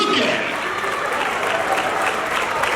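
A gala crowd applauds in a sustained wash of clapping, thick and even, with a few faint voices rising over the hands.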